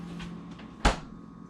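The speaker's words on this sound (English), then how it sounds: "Every now and then, I test if I'll be able to close the freezer door." A freezer door is pushed shut with a single sharp thump near the end, preceded by faint rustling and a low appliance hum.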